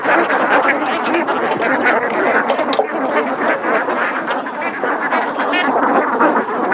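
A flock of Khaki Campbell ducks quacking continuously, a dense, loud and close chorus of overlapping calls with no pauses.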